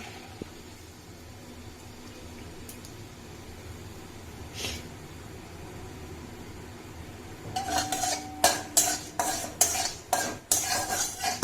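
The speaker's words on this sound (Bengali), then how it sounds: "ছোলার ডাল আর বিউলির ডাল ভাজা হয়ে গেছে" Chana dal and urad dal frying in a little oil with a low hiss, then a quick run of metal spatula scrapes and clinks against the pan near the end, loud and close.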